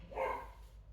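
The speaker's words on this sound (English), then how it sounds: "If you hear a dog barking in the distance" Cockapoo dog giving a single faint bark from a distance, brief and quiet, heard alone in an indoor setting.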